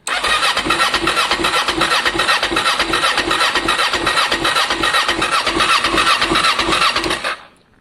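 A Kawasaki ER-6n motorcycle engine, run-down and in need of clean spark plugs, cranks and catches, then runs loud and close with a rough, steady pulsing throb for several seconds before cutting off abruptly near the end.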